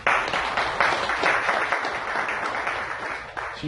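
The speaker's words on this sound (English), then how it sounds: "Give her a big round of applause." An audience at an energy healing meetup breaks into applause, a dense, steady wash of many hands clapping at close range with no talk over it.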